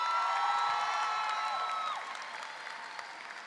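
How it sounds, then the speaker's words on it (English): A crowd claps at a high school graduation ceremony in a large hall, the applause tapering off as lingering tonal sounds fade, with faint cheers mixed in. "let's give them a round of applause"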